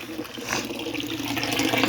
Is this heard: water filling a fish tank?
yes